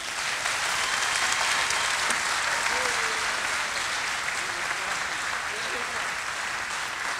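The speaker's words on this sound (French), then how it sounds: "Vous pouvez les applaudir bien fort." An audience at the FIBD 2018 comics festival applauds the artists after a live drawing battle, with dense, sustained clapping filling the hall throughout.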